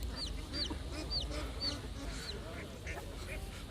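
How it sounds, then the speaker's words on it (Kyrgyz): Fowl at the Kurshab livestock market, where chickens are sold, give repeated short clucks and squawks in a busy, noisy crowd, with a continuous murmur of voices and market bustle underneath. "бул жерде тоок базарга келдик"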